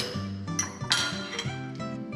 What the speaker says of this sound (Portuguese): Então agora eu vou só misturar a bananinha aqui